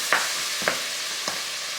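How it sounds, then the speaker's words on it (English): Frozen mixed vegetables saute in melted butter in a pan, a steady close sizzle broken by three soft stirring scrapes, with no talking. "I'm gonna saute those vegetables."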